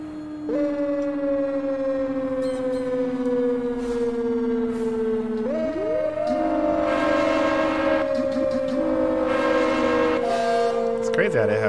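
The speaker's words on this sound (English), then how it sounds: "Crazy how they have train horns on this thing too." In a video game, an FDNY fire truck's loud, sustained multi-tone train horn blares with long held chords that shift pitch midway, joined by a siren-like wail, continuous and close.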